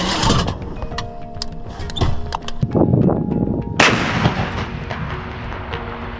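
Heavy artillery booms erupt several times near Bakhmut, with a loud blast near the middle followed by a long fading rumble and some mechanical clatter.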